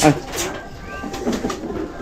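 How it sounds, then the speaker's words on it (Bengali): Pigeons coo softly at close range on a rooftop while being fed, with a short loud sound at the start and a person speaking faintly in the background. "আজকে আমার কবুতর একটু খাওয়াই নিয়ে দেখেন"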